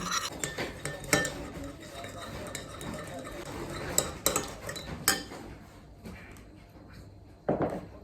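A utensil clinks and scrapes against a bowl while stirring a sauce for cabbage, with irregular taps and a louder knock near the end.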